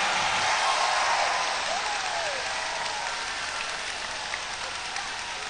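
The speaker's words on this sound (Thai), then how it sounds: "ใครเอ่ยปรบมือดังๆต้อนรับท่านวีรการมุสิกพงษ์ครับ" A crowd at an outdoor political rally applauds to welcome a speaker, a broad, steady sheet of clapping and cheering noise that starts strong and eases slightly, with faint shouts underneath.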